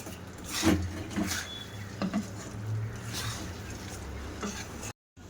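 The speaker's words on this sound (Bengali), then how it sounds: "এবার আর নাড়তে থাকবো বেশ ভালো করে গুড়টা মিশিয়ে নেব চিড়ের মধ্যে" Flattened rice (chira) is stirred with jaggery in a pan over a low gas flame, producing a soft, steady patter and scraping with occasional sharper taps close by, ending in a brief silence.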